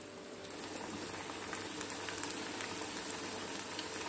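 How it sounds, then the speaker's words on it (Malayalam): Onion vadas frying in hot oil in a Kerala-style kitchen: a dense, continuous bubbling sizzle, close and steady throughout, with no voices. "നമ്മുടെ എണ്ണ ചൂടായി, അതിലേക്ക് നമുക്ക് ഈ ഉള്ളി വട ഓരോന്നും ഇട്ട് കൊടുക്കാം."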